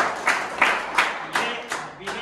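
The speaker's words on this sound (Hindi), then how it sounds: "इसके नाम की ताली मारो।" A small group at a commando training academy claps in unison for a recruit, about six sharp, evenly spaced claps, close and fairly loud, each with a short room ring.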